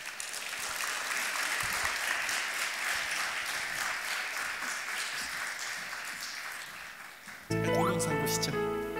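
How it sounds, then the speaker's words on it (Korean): A church congregation at a Korean Friday worship service applauds to welcome a missionary, a dense, steady wash of many hands clapping that fills most of the clip before it cuts off abruptly into music. "우리 박수로 한번 환영하면서 귀한 말씀 듣도록"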